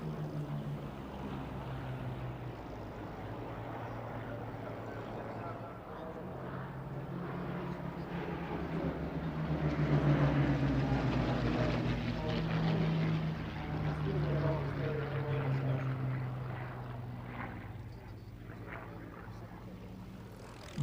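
A Hawker Hurricane propeller fighter passes at an airshow, its engine drone swelling to a peak midway and then fading, distant and steady throughout.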